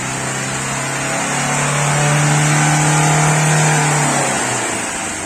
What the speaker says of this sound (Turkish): Araç kendi gaz veriyor